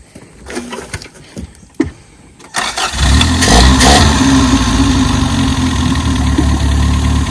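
Toyota AE82 Corolla FX hatchback, long abandoned, cranks in a few short bursts, then fires at about three seconds and settles into a loud, steady idle with a deep, rough rumble that continues to the end.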